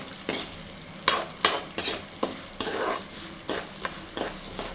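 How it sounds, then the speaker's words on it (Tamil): Urad dal fries in a pan until golden, giving a soft steady sizzle broken by repeated scraping strokes of a spoon stirring the lentils. "பருப்பெல்லாம் நல்லா பொன்னிறமாக ஆகிற வரைக்கும் நல்லா வறுத்துக்கலாம்"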